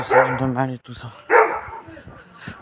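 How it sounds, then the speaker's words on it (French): Dog barking in a street, two short bursts of yapping barks close by, with a person talking over them. "Désolé si vous entendez des gens parler ou des chiens aboyer, c'est juste que je passe dans une rue là."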